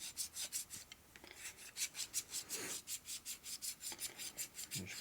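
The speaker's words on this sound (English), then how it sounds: "you take your ball with your lapping compound on it and you stick it inside your pump and you lap it" Steady rhythmic rubbing as a valve ball coated in lapping compound is lapped into a pump seat on a 1941 Harley-Davidson WLD 45 flathead, a quick back-and-forth scraping repeating about three times a second, close and moderately loud with no talk.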